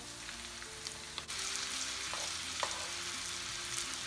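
Meat sizzling steadily in a hot pan for Turkish sac kavurma as tomatoes go in, a continuous close frying hiss with a few soft stirring scrapes and one brief drop where ingredients are added.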